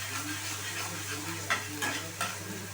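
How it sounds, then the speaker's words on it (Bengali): Onion frying in a pan with ginger, garlic and green chilli paste added, a continuous sizzle over a low hum, broken by three brief stirring scrapes toward the end. "পেঁয়াজটা একটু ভাজা ভাজা হয়ে গেছে, এখানে আমি সামান্য আদা রসুন কাঁচা লঙ্কার পেস্টটা আমি অ্যাড করে দিচ্ছি"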